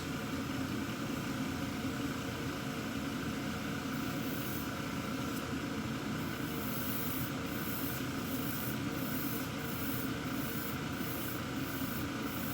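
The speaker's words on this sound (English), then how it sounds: "Actually sprays pretty good." Spray gun laying down a coat of paint in a steady, continuous hiss over a low engine-like hum, with faint rhythmic pulsing near the end; close and sustained, no talking.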